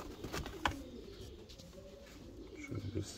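Very large, tall Maltazar pigeons, a blue hen and a black cock, coo in low, steady murmurs close by, with a sharper bird note early on and a voice faintly in the background.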